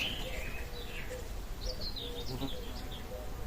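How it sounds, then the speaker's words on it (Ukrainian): Faint, high bird chirps and short twittering phrases drift over a steady outdoor hum, with a soft voice murmuring low in the background. "Співають пташки."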